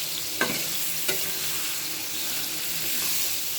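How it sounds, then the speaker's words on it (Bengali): Tomatoes and spices fry in a pan for a hilsa fish curry, giving a steady close sizzle with two sharp stirring scrapes near the start and no talking. "টমেটোগুলো আমার কষানো হয়ে গেছে"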